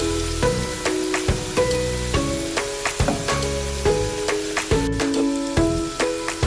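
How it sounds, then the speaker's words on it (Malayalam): Banana fritters (pazhampori) frying in hot oil, a close continuous sizzle and crackle with repeated sharp taps and clinks of a utensil against the pan at an irregular rhythm, with no voices. "ഇപ്പോൾ ഫ്രൈ ആവുന്നുണ്ട്."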